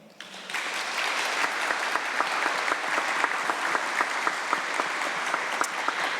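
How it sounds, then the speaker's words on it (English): An audience at a college transfer student welcome event gives speakers a round of steady, dense applause that starts abruptly and fills the hall at moderate volume, with sharper individual claps popping through. "another round of applause for our speakers this evening"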